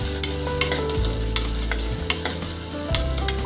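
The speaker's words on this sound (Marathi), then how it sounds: "लसूण परतून झाल्यावर बारीक चिरलेला कांदा चांगला लालसर होईपर्यंत परतून घ्यायचा।" Finely chopped onion and garlic sauté in a cooker for masoor dal amti, with a continuous sizzle and regular scraping strokes of a spatula stirring close by.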